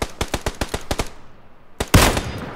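Gunfire in the battle royale game PUBG: a rapid string of about eight sharp shots, a short pause, then another shot and a louder, close blast with a lingering tail.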